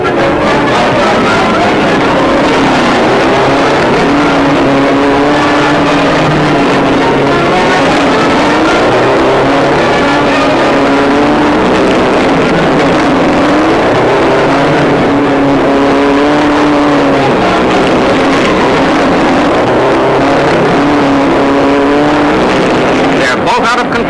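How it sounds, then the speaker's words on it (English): Pre-war racing cars speed around a banked saucer track, their engines roaring loudly in a continuous stream of rising and falling drones as they pass, under a narrator's voice throughout. "More thrills with the big cars as they speed like rockets around the saucer."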